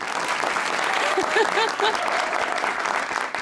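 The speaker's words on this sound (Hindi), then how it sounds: "पहले तालियां प्लीज" A TV studio audience applauds, a steady wash of clapping throughout with voices and cheers mixed in.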